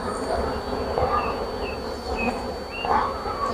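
Honeybees buzz steadily and close by while a hive is opened for the first big spring inspection of overwintered colonies, a dense continuous drone with no talking.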